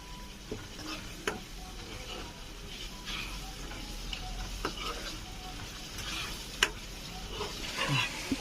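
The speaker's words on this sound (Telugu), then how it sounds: "ఇప్పుడు ముందుగా రెడీ చేసి పెట్టుకున్న అల్లం వెల్లుల్లి పేస్ట్ వేసి దీన్ని కొంచెం బాగా కలుపుకోవాలి" Ginger-garlic paste sizzles softly in a pan while a spoon stirs it, leaving a low continuous frying hiss broken by scattered clicks and scrapes of the utensil against the pan.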